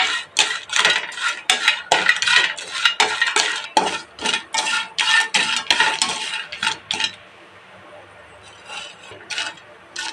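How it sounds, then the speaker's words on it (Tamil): Dried fish being lightly dry-roasted in a pan, giving a steady scraping and rattling of a spatula against metal with small clinks, loud and close for about seven seconds before easing into quieter, sparser stirring. "இப்படி லைட்டாக அப்படியே வறுத்துக்கலாம்."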